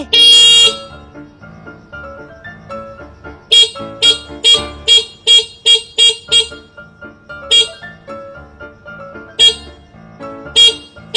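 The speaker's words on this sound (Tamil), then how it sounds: "ஹார்ன் அடிச்சுக்கிட்டே இருப்பியாடா நீ" A car horn honks over and over in short, loud blasts, bunched in rapid runs with brief pauses between bursts, sounding close by.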